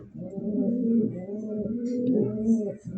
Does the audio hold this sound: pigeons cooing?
yes